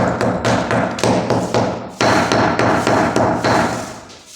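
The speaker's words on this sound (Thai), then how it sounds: "นี่นะครับ เป็นการเคาะปูนนะครับ" Repeated hammer taps knocking loose old mortar from a floor before laying new tiles, a steady run of sharp, close, loud knocks roughly every quarter second with no talking.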